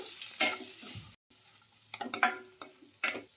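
A spoon scraping and stirring masala with roasted cumin powder and fresh coriander in a pan, a few short, close, irregular strokes separated by brief pauses.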